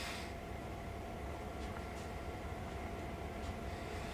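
Two locomotives rumble in Train Simulator, a dense, continuous low drone of engines and rolling stock close up, with a faint steady tone and a few soft clanks over the constant noise.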